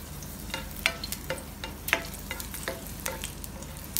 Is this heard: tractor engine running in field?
no